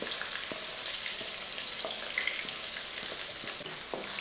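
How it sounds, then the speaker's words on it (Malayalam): Garlic, green chilies and onion fry in a pan with a soft, continuous sizzle, joined by occasional light taps and stirring clicks, fairly quiet and close. "വെളുത്തുള്ളി ഒന്ന് ചെറുതായിട്ട് മൂത്ത് വരുമ്പോഴത്തേക്കും ഈ പച്ചമുളകും സവോള അരിഞ്ഞ് വെച്ചിരിക്കുന്ന അവിടെ അങ്ങോട്ട് ഇട്ട് കൊടുക്കുക."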